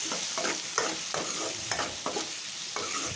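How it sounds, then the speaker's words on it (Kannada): Tomato, curry leaves and green chili fry in a pan with a loud, continuous sizzle, broken by a regular rhythm of stirring strokes roughly every third of a second. "ನೆಕ್ಸ್ಟು ಟೊಮೊಟೊ, ಅದನ್ನು ಹಾಕಿ ಫ್ರೈ ಮಾಡ್ಕೊಳ್ಳಿ ನೀಟಾಗಿ."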